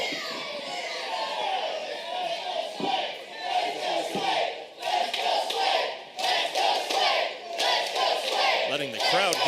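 A pro wrestling crowd cheers and chants in rhythmic bursts, loud and close, with rising waves of shouting and some clapping mixed in.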